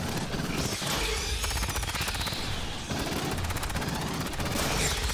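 Automated sentry turret blazing away in the Aliens Fireteam Elite shooter game, a rapid unbroken stream of gunfire that runs loud and dense for several seconds, briefly dipping before resuming.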